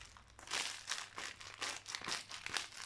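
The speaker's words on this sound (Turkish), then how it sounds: "Bunun içinde de bütün ambalaj kağıtları var. O yüzden bu kadar çok ses çıkartıyorum." Close, loud crinkling of wrapping paper in repeated bursts as it is handled and scrunched, no voices.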